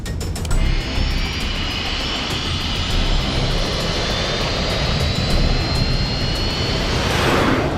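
A jet aircraft engine roars steadily during takeoff, a loud, sustained broadband rush with a high whining tone rising slightly toward the end.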